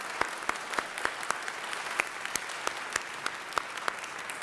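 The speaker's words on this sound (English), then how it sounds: "We should give him a round of applause." Applause from an audience at an Italian-American Heritage Month celebration in Los Angeles City Hall, sparse clapping with distinct individual claps rather than a dense roar.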